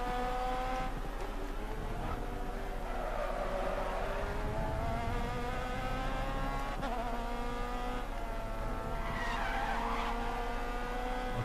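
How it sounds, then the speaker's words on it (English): Tires skid and slide as a race car goes off the track in the racing game GRID Autosport, a steady sustained screech with engine drone throughout, loud and close with no talking. "somebody started sliding or, you know, going off the track"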